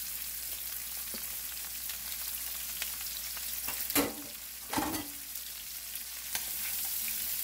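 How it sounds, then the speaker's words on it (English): Red, yellow and green peppers, onions and celery sautéing in a pan over high heat, a quiet continuous sizzle broken by a couple of short clattering stirs. "And just let it saute"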